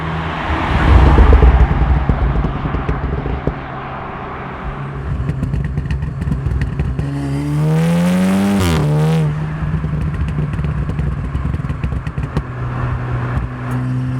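Stage 2 crackle-tuned Golf R exhaust idling and revving, a loud close engine rumble with a rising rev sweep midway before settling back to a steady burble.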